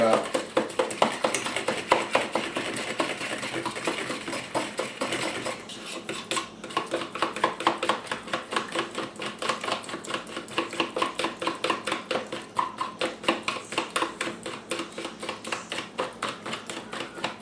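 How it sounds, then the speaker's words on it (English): Brisket seasoning of black peppercorns is stirred in a bowl, with rapid rhythmic clinks and scrapes repeating steadily up close for many seconds, quiet and alone. "And I'm just going to stir it up."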